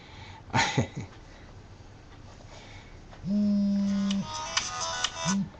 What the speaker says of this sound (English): And now my phone is ringing, but I'm not answering